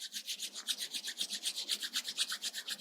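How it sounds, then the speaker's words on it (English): Palms rub briskly together in a quiet yoga session, a close, rapid rhythmic swishing of about eight strokes per second, steady and alone for a few seconds. "Rub your palms."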